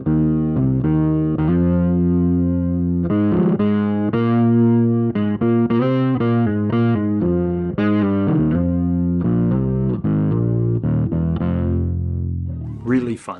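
An electric bass runs through a Fractal FM3 with chorus turned on, giving a loud, continuous melodic line of thick, shimmering notes that ends in a rising smear.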